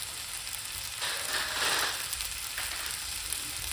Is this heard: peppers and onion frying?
yes